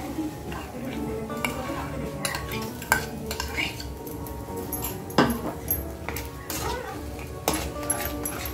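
Soaked milk and semolina go into a pan of caramel and ghee for sooji halwa, giving soft stirring and scraping with a few sharp metal clinks of utensils against the pot, close and steady, with faint sizzling and a brief voice in the background.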